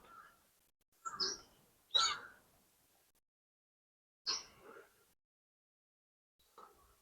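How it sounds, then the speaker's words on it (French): Birds call in a quiet park in Odaiba, a few sparse chirps in separate bursts with long silent gaps, faint and somewhat distant. "Il y a que moi qui parle dans ce parc en fait, et les oiseaux."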